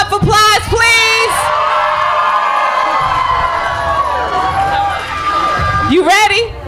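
A crowd at a live radio station event for a rapper erupts in loud cheering, whoops and yells, sustained throughout with excited shouting voices on top, close and energetic.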